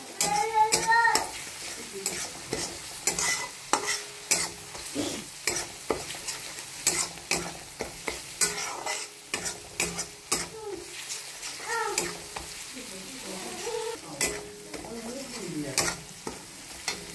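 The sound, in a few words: garlic paste frying and being stirred with onions in a pan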